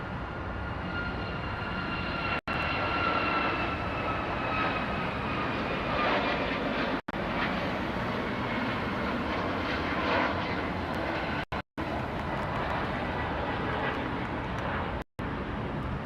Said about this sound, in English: We have a 737 MAX taking off to Kahului, flight 417.